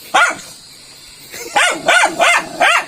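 A dog barks close by in a rural Cagayan setting: one sharp bark, a pause, then a rapid run of four loud barks in quick succession, with no voices over them.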